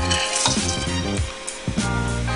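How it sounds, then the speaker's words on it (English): Washed, soaked red kidney beans tipped into a hot pot for rice and peas, loud sizzling and frying with stirring scrapes and clatter, no talk. "I'm going to add to the pot 12 ounces of washed and soaked red kidney beans."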